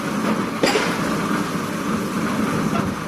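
Foundation piles being driven by a pile-driving machine at a construction site: one sharp heavy strike rises out of a steady, loud engine rumble.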